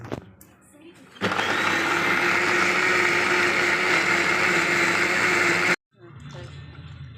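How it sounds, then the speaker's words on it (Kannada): An electric mixer grinder whirs loudly for about four and a half seconds as it grinds drumstick leaves with chilli, cumin, grated coconut and garlic, then cuts off abruptly, with quieter kitchen sounds before and after. "ಹುರ್ಕೊಂಡಿರೋದು ಮೆಣಸಿನ್ಕಾಯಿ, ಜೀರಿಗೆ, ಕಾಯಿ ತುರಿ, ಬೆಳ್ಳುಳ್ಳಿ ಮಿಕ್ಸಿಗೆ ರುಬ್ಕೊತಿದ್ದೀನಿ."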